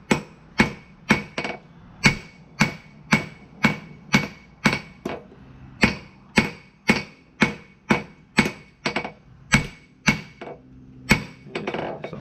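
Loud, steady hammer blows on hot steel being forged into the tang of a patch knife, about twenty sharp ringing strikes in an even rhythm with brief pauses, close by and with no talking.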